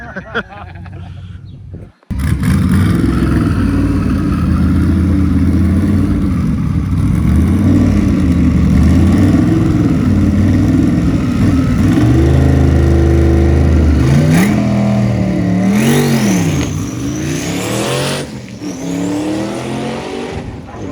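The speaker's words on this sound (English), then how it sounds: "we're gonna do the biggest, gnarliest burnout in the box that they've ever seen at Milan" Drag car roaring through a burnout in the box at Milan drag strip, a loud sustained engine snarl with revving swings and rising tire squeal toward the end, close and dominating throughout.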